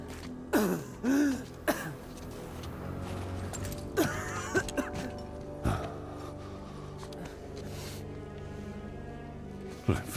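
A character in the PS4 game God of War coughs and clears his throat in short, rough bursts near the start, then the game's ambience and low music continue quietly.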